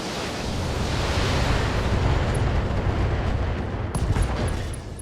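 Long-range missiles and lasers firing in the BattleTech video game, a loud dense roaring barrage of launches and blasts that swells and carries on with a sharp burst near the end.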